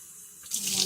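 Water pours into an Instant Pot holding brown rice, a short rushing splash that starts quietly and swells loud within a second.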